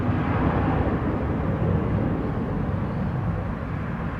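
Airplane noise at Montego Bay airport in Jamaica, a steady loud broadband roar with no break, like a jet passing close by or running its engines on the ground.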